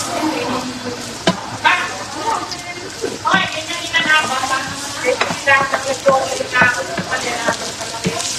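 Plenty of garlic stir-frying in a hot pan, busy sizzling broken by repeated scraping and tossing strokes of a utensil, close and fairly loud, with no talking.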